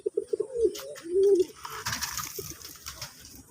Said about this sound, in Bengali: এখানে জোড়া কবুতর এখানে সব জোড়া অসাধারণ সব কবুতরগুলি